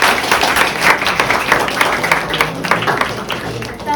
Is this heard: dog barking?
no